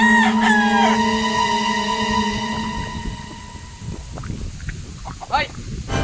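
Chickens and a crowing rooster in a yard, the crow standing out loud and close at the start, then scattered clucks and rustling over outdoor background noise.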